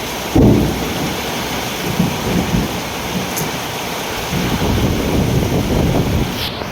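Heavy rain pours steadily during a thunderstorm, with a loud close thunder crack at the start, rumbling through the downpour and gusts of wind buffeting the microphone.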